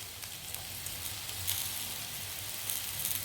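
Steady, close sizzling of beetroot and cut coconut sautéing together in a hot pan, a continuous hiss with no talking.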